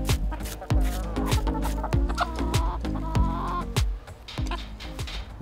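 Several chickens cluck in short bursts close by, pecking at sunflower heads on a flower farm, over a busy farmyard backdrop with occasional sharp knocks and a faint voice.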